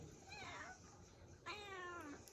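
Two cat meows, a short one followed by a longer, louder drawn-out one, close by in the kitchen of an old mud house in Konkan, with light background noise and no talking.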